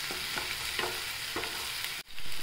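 Onion sizzles in hot oil in a pan, a steady close frying hiss with repeated soft scrapes of stirring, then a brief pause at the end.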